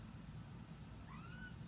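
Pet cat giving a brief, faint, rising chirp-like vocal sound instead of a normal meow, heard once near the end over a quiet indoor background.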